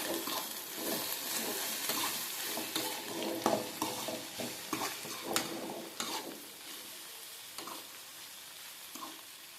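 Okra curry cooks in a pan on low heat while a spoon stirs it, giving a steady soft sizzle with repeated scraping strokes and clinks and no talking.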